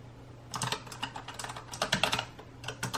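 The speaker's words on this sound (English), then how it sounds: "it's very clicky, and I don't even know if the camera's focusing or not, but I'm just typing like random stuff" Rapid irregular clicking of keys being typed on a clicky Razer Huntsman Elite mechanical keyboard, close and crisp, in uneven bursts over a faint low hum, with no voices.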